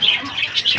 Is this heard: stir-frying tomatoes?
no